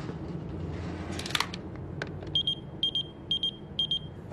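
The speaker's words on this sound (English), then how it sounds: "Andre, how could you get a beeper, especially after I told you not to?" A pager beeper goes off in repeated short bursts of high electronic beeps, four quick groups in a row, fairly close and loud over a low room hum, with no speech.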